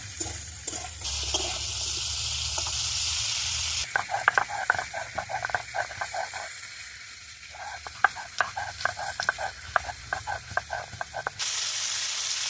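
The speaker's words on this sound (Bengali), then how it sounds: "ততক্ষণ ওদিকে কপিটা ভাজা হচ্ছে" Cauliflower sizzles in a pan with a steady hiss, broken by repeated clinks and scrapes of stirring and utensils knocking against the pan.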